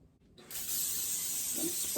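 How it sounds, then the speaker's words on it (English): A brief pause, then a steady continuous hiss of cooking spray onto a baking pan starting up and holding close by, with a faint clatter near the end. "Spray a baking pan."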